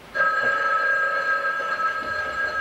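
A telephone rings loudly and close by, one long continuous bell tone that starts abruptly and keeps sounding without a break, with no voices over it.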